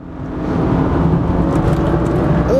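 A 400 hp BMW 335i driving over bumpy road, steady close engine and road roar rising in the first half second then holding, with rumbling tire noise.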